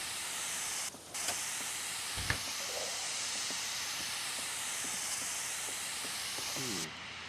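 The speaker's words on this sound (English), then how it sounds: "we're hearing sprinklers and stuff right now" Broad, steady hissing of lawn sprinklers in The Sims 3 fills the clip, with a few soft clicks and a brief low thud partway through.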